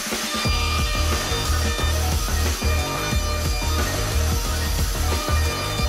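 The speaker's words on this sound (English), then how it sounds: "we admired the CNC lathe at work" A CNC lathe turns rough wooden blocks into bed parts with a continuous, loud machine drone and a rapid, regular chattering pulse of cutting underneath it.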